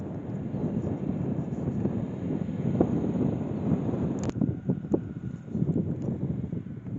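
Steady outdoor wind buffets the microphone at a Kansas mining museum site, a continuous low rumbling gust noise with a faint distant hum.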